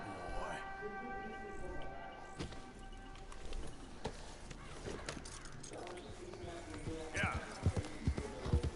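Galloping horse in the video game Red Dead Redemption 2, with rapid hoof clip-clops mixed with game ambience and music, while someone talks over it.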